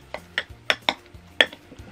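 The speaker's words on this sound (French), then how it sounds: "Vas-y, remue bien." Crunchy slime from a slime kit being stirred in a container, giving a series of sharp clicking, scraping knocks at an uneven rhythm, close and fairly clear, with no talking.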